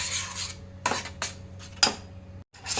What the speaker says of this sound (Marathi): हे सगळं आपल्याला घट्ट होईपर्यंत छान मिक्स करून घ्यायचं आहे